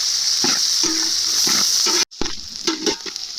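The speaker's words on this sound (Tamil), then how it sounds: "வெங்காயம் நல்லா வதங்கிடுச்சு." About 1 kg of large onions sizzle steadily in a hot pan for a crab dish, with soft scraping stirs and a brief silent gap partway through.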